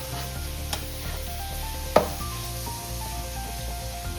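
Tiger prawns masala fry and sizzle in a pan, a steady crackling hiss broken by a few sharp scrapes and clinks of a spoon stirring, close and fairly loud.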